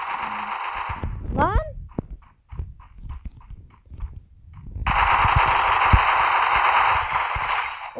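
Gunfire in the Free Fire mobile shooter game, a sustained loud burst of weapon fire, then a stretch of separate short shots and thuds, then another long continuous burst of automatic fire.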